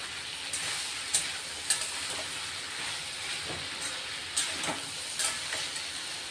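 Dry cauliflower sabzi sautés in a pan, giving a steady soft sizzle broken by a few sharp clicks and scrapes of stirring, with no talking.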